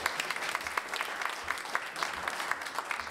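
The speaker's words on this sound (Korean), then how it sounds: "큰 박수 부탁드리겠습니다." An audience at a university scholarship certificate ceremony claps steadily and warmly, a dense patter of many hands at moderate loudness with no voices over it.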